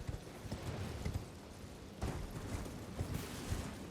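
Horse hooves clip-clop steadily across ground in the Elden Ring video game, a quick, even trotting rhythm over a dense, faint background wash, with no talking.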